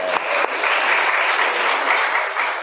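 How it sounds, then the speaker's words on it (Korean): Steady applause from a classroom or lecture audience fills the whole stretch, dense and continuous clapping at close range with a small burst near the start, no speech over it. "박수 한번."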